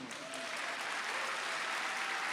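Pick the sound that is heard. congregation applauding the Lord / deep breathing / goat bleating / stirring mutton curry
congregation applauding the Lord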